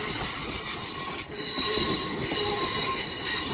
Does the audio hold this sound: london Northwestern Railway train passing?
yes